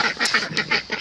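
Geese let out loud, nasal honks in quick succession, several calls overlapping close by over about a second.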